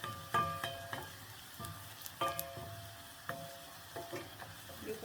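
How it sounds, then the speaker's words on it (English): Onions frying for pilau, a soft continuous sizzle broken by irregular scraping and clinks of a spoon stirring in the pot, close but fairly quiet. "So we are going to wait our onions to cook."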